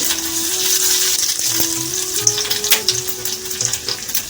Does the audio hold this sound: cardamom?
yes